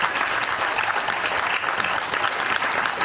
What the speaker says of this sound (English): I want you to clap for ourselves and these men and women.